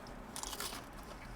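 A single quiet, close crunch as teeth bite into the crust of a Marie's XXX Special pizza topped with prawns.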